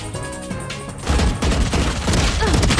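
Video game gunfire breaks out as a rapid, loud volley of shots after a quieter opening and keeps going to the end.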